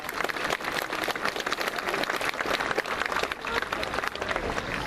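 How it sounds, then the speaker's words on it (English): A graduation audience claps steadily in a large hall, a dense sustained wash of applause throughout. "Round of applause."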